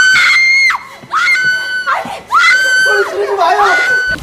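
A woman screams in a 2017 Korean thriller film scene, several loud, piercing high cries in quick succession, breaking off and rising again amid agitated shouting voices.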